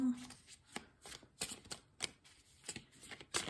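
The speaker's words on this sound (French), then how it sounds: "maintenant, je vais prendre 3 petites cartes pour les béliers du mois de mars 2023" Tarot cards shuffled and drawn for a reading, giving soft papery riffles and several crisp slaps and flicks spaced irregularly, close and fairly quiet.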